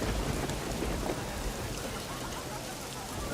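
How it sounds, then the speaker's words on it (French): Steady, dense rain pours down continuously at close range, with low thunder rumbling beneath it and no voices. "Il pleut enfin."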